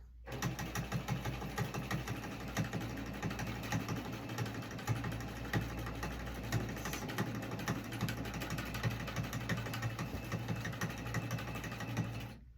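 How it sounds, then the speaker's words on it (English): A Cutie quilting machine stitching backwards through a large quilt with wool batting gives a steady, close mechanical hum with a fast rapid stitching pulse that runs continuously and evenly throughout. "I'll probably break thread because it does not like stitching backwards"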